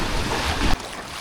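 Strong sea waves slosh against a small boat pulling in toward a rocky island. The rushing water and wind noise are dense and loud, then drop abruptly partway through.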